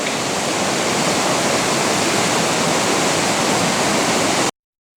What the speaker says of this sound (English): This river is really rocking and rolling.